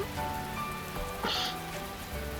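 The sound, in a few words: rain falling, from the visual novel game The Fruit of Grisaia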